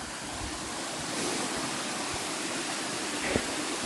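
A waterfall in the Scottish hills gives a constant broadband rush of falling water, steady and fairly loud, with wind buffeting the microphone at moments.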